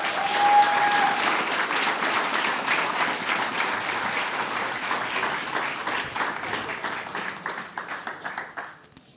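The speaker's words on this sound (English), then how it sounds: "Let's give one last round of applause to Class 994." An audience claps for a graduating guide dog class at a celebration, the applause full and sustained for about eight seconds before thinning into scattered claps and fading out at the end.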